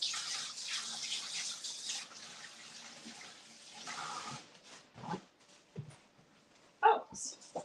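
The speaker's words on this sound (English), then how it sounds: "So let me get my hands washed." Tap water runs steadily while hands are washed at a kitchen sink, a close, even hiss that stops partway, followed by a few faint clinks and handling sounds.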